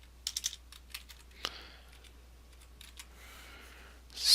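A computer keyboard is typed on in a quiet room, with a few quick clustered keystrokes, scattered single taps, and a louder burst of noise at the very end.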